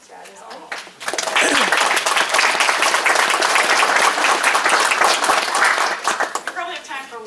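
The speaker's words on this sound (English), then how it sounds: "round of applause" Conference audience applauding after a talk on Pacific lamprey management and conservation, sustained dense clapping for about five seconds before fading, with brief talk at the start and end.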